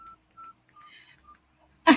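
Telephone keypad dialing tones, four short separate beeps in an uneven rhythm, clear and fairly quiet, ending with a sudden loud burst of noise.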